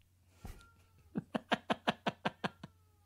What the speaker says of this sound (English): your cats watch the show and they're now yowling in rage